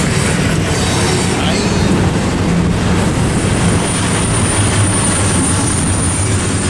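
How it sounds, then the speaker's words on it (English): A Hobart-bound freight train rolls past on Cajon in California, its steady broadband rumble and clatter loud and continuous throughout, with a faint high wheel squeal riding on top and no talking. "This looks like a pure Hobart bound train here."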